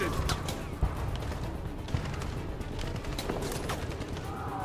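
Machine gun fire rattles in Detroit Become Human as rapid bursts of shots run continuously, with a few louder cracks standing out over a noisy battle background.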